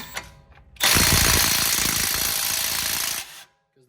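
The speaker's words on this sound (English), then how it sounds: "These are what's really good to have an impact for" An impact wrench runs on the caliper bracket bolts of a Jeep Wrangler JK during a front and rear brake job, one loud close burst of rattling hammering lasting about two and a half seconds before stopping abruptly.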